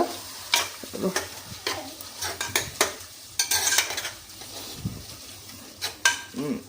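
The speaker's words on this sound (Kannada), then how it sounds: "ನೋಡಿ ಚೆನ್ನಾಗಿ ಕುದೀತಾ ಇದೆ." A mixture bubbling and boiling in a pan on the stove, with intermittent scraping stirs and soft clinks of a utensil against the pan, close and moderately loud throughout.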